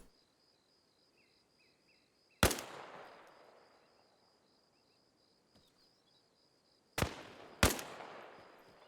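Enemy gunfire in Arma Reforger: three sharp shots, one alone and then a close pair, each ringing out with a long echoing tail over quiet ambience with a faint insect-like tone.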